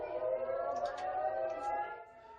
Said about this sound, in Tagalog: Dinig ang sirena at airstrikes nang patapos na ang panayam ko kina Rica, Queenie, Rosie at Yam